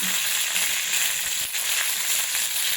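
Mustard seeds and curry leaves crackle in hot coconut oil for upma, a dense, steady close-up sizzle that runs without a break and has no voices over it.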